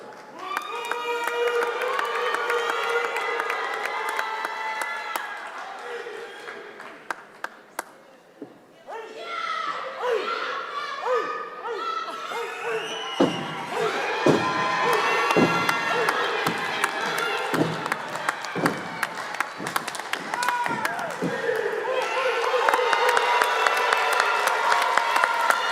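A commencement crowd applauds and cheers graduates at a spring ceremony. The clapping and shouts swell and fade in waves over about twenty-five seconds, mixed with voices and a booming hall ambience.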